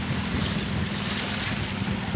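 Strong wind and rolling waves surround a fishing boat out at sea, a loud, continuous rush of gusting air and surf with constant wind buffeting on the microphone and no voices.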